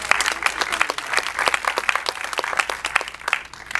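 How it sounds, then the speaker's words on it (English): Steady audience applause fills a film panel event, dense close clapping from a crowd sustained throughout with no talking. "so will you give him a round of applause for"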